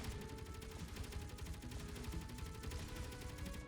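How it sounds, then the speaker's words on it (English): A custom turret in Space Engineers firing rapidly at ships, a dense, continuous burst of rattling gunfire with evenly spaced shots, loud and sustained until a slight tail-off at the end. "you can even take shots at bigger ships as well and see how much damage you can cause"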